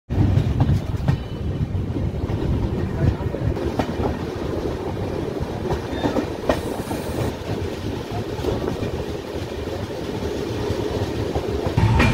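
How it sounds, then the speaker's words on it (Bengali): An express train rumbles and clatters steadily as it pulls away from Bhadrak station, rhythmic wheel clicks over a low continuous roar, with occasional wind buffeting on the microphone. "ভাদ্রাক স্টেশনে এখন ট্রেনটি ছেড়ে বেরোচ্ছে"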